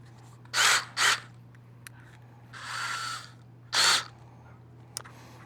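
Drilling holes in an Airstream ZipDee awning tube: several short high-pitched drill bursts, two quick ones, a longer softer run and another burst, close and clear over a faint steady hum.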